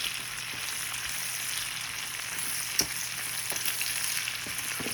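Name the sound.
bacon frying in a pan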